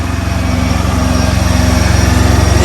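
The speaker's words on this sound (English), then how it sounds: "Y'all hear that APU?" A semi truck's small diesel auxiliary power unit drones steadily nearby, a loud continuous hum with a fast even pulse and no voices over it.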